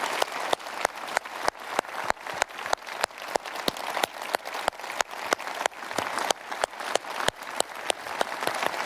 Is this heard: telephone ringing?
no